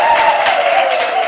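Dense, steady applause from an audience at a gospel music show, loud and close, with a broad sustained wash of clapping that carries on without pause.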